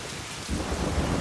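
Steady rain hisses throughout a Telugu film scene, joined midway by a deep, rolling thunder rumble that swells and stays fairly close, with no voices.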